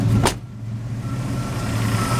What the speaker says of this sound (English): I just cranked the old truck up